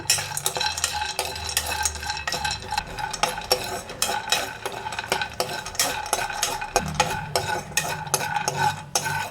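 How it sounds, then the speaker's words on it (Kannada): Almonds and cashews are dry roasted in a pan, a steady scraping and stirring with rattling nuts and a utensil clinking against the metal, close and continuous with no talk. "ಡ್ರೈ ರೋಸ್ಟ್ ಮಾಡ್ಕೊಳ್ಳೋಣ"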